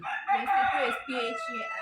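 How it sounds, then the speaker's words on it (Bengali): A rooster crows nearby, loud and drawn out, followed by a shorter second call. "আর আমার মোরগ কি ডাকে দেখছেন"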